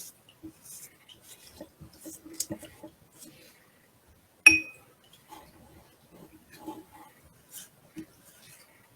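A brush works over a glass jar coated in hairspray, making faint, scattered taps and light scrapes on the glass, with one sharp clink midway and quiet moments between strokes.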